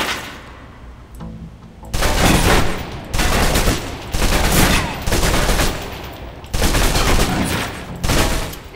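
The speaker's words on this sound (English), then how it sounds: "Now let's empty the clip." A submachine gun in the Alpha Protocol game fires its full magazine in several long, loud automatic bursts with short pauses between them, the shots close and dominant.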